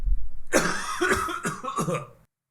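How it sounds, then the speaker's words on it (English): A big, loud cough up close, breaking into several rough hacking bursts in quick succession before stopping. "let me let out a big cough"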